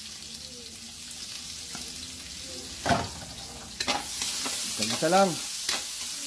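Onion and garlic sizzling in hot cooking oil while igado is being prepared, a soft steady fry with occasional stirring clatters and a brief spoken word.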